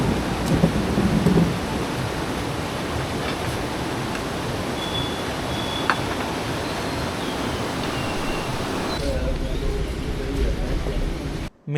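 At Manikaran hot springs, rain sets in with a low rumble of thunder, a steady wash of rainfall running throughout, with voices talking in the foreground.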